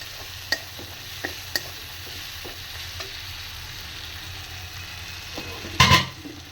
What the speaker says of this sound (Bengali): এইভাবে মশলাটা ভালো করে কষিয়ে নিতে হবে